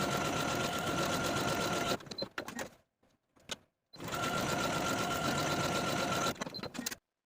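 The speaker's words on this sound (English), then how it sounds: "Now I'm ready to take this to my sewing machine and sew my buttonholes to my front waistband area." A domestic sewing machine stitches buttonholes into the front waistband of beginner-friendly shorts, running in two steady loud bursts of about two seconds each, separated by a short pause with faint handling clicks.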